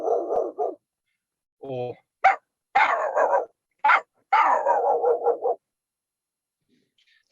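A person imitates a dog with a string of voiced barks, yips and growly howls in short bursts separated by pauses, loud and close, with a brief spoken word among them.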